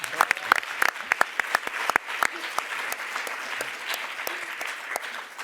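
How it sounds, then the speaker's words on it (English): Audience clapping at a film press conference at the Berlinale festival: a burst of sharp, dense applause from a seated crowd, loud at first and then settling into a steadier patter that carries on through the whole stretch. "Yeah, we can clap as well."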